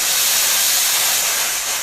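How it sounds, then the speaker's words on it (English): A Bosch steam iron rated at 3,100 watts with 5.5 bar steam pressure releases a burst at the press of a button, a loud, steady, close hiss that fills the whole moment with no talk. "you can see all that steam, and that should be able to glide through the jeans"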